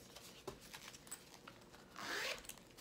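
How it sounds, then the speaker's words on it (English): A zipper envelope is unzipped in one quick, close, quiet zip against a faint, soft background. "A zipper envelope"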